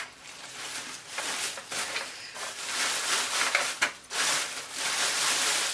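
Crinkling and rustling as a plastic bag is handled while a small pot of freshly sown, water-sprayed viola or pansy seeds is placed inside to make a mini greenhouse; the noise is close, busy and fairly continuous.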